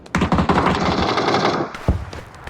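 Rapid automatic M4 rifle fire in the video game PUBG, a loud sustained burst of close shots followed by a single sharp report after a short pause.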